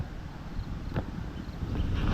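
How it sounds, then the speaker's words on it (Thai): Strong wind blowing outdoors, a steady low rushing roar with buffeting across the microphone that swells slightly toward the end, with no voices. "วันนี้ลมแรงมากด้วยเนาะ"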